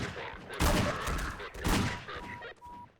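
Rapid bursts of gunfire in Half-Life 2, with two loud volleys and quieter shots scattered between them, all close and sharp.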